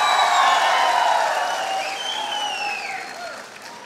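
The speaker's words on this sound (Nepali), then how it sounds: "उहाँको सम्मानको निम्ति अलिक ठुलै ताली बजाउँदा पनि नोक्सान हुँदैन" An audience claps in a steady, dense round of applause at a Nepali public gathering, loud at first and slowly easing off, with a few whoops and voices mixed into the crowd noise.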